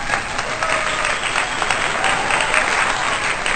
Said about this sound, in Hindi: इस सुंदर प्रस्तुति के लिए एक बार जोरदार तालियां